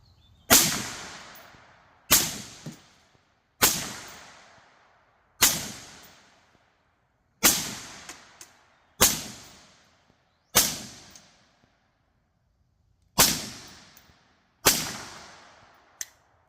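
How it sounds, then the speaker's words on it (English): A PSA AR-15 rifle fires about ten sharp, loud single shots, each with a quick decaying echo, spaced roughly one to two seconds apart with no voices. "And let's fire some rounds through it."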